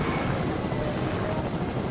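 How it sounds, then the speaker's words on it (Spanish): A steady, droning rotor and engine roar of a helicopter in a PS4 video game, continuous and fairly loud with no clear breaks. "Lo siento mucho, pero yo me tengo que ir en helicóptero."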